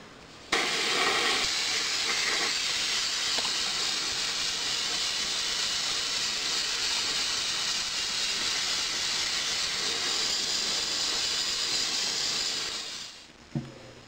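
An airbrush or spray can sprays a coat of Future floor wax onto a 1/35 Tamiya Universal Carrier scale model, a continuous close hiss lasting about twelve seconds before it cuts off with a small clatter.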